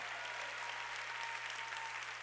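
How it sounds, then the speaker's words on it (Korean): A church congregation at a Sunday worship service applauds in a faint, even, continuous patter that sounds fairly distant, with no voices rising above it. "본 사람만 박수치라"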